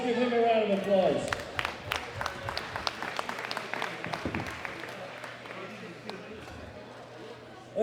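An audience at a world classic powerlifting championship medal ceremony breaks into sustained applause of scattered, close claps that slowly thin out, with an announcer's voice at the start.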